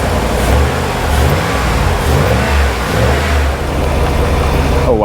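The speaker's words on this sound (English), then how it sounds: "Watch right here when I rev it." Dodge Dakota engine with a clogged air filter revving up loud and close, the pitch rising and dropping over several blips, with a voice briefly heard at the end.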